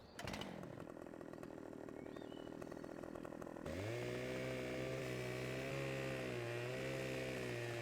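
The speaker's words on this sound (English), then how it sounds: "I think it's time to get the chainsaw out again" Chainsaw in Farming Simulator 15 cutting trees in a forest logging area, a loud steady buzzing engine that drops to a lower, heavier revving drone partway through, continuous and up close.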